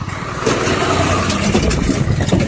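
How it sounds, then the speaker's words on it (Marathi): A tractor approaching along a road, its steady engine rumble close and continuous for the whole stretch, rising slightly in loudness without any pauses or voices. "आता पुढून आलं ट्रॅक्टर"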